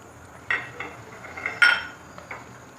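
Nuts drop into a pan of homemade Eid dessert, giving a few light clinks and rattles against the metal, two louder bursts among softer taps, close and with no talking.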